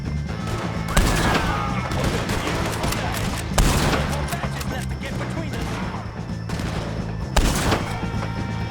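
Dense, continuous gunfire fills a Red Dead Redemption 2 shootout against the O'Driscolls, with rapid overlapping shots, several sharp louder cracks standing out and voices shouting amid the loud barrage.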